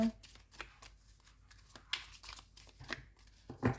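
Tarot cards being shuffled and cut, a quick series of close, soft riffling slaps and papery flicks in uneven bursts, faint overall with a sharper snap near the end.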